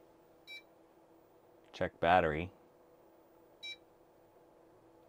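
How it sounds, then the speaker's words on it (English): Two short electronic POST beeps from a DTK PTM-1000 286 computer motherboard with battery damage, one early and one later, separated by a brief spoken phrase in the middle over a steady low hum. "We got a lot of beeps, though. We shouldn't have this many beeps."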